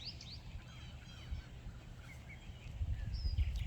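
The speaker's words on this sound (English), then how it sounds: "Listen to the birds. Birds everywhere this morning." Faint bird calls and honks sound outdoors over a low, steady rumble of background noise, with a few chirps scattered throughout.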